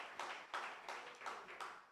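Church congregation applauding in a clapping burst of dense, overlapping hand claps that swell and pulse through the room, fairly loud and continuous with no voices over it.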